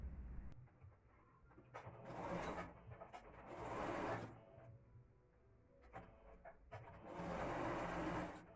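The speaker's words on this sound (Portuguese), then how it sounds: "passa na overlock ou no ponto zigue-zague" An overlock sewing machine stitches seams on a viscose blouse, running in several sustained whirring bursts separated by short pauses, heard close up with no talking.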